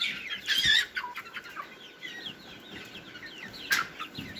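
Hens cluck and chatter close by in a steady, busy flock inside a brooder, with a couple of louder squawks rising above the murmur.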